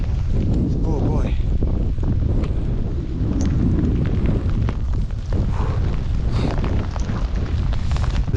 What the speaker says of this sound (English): Wind is just blowing straight through here.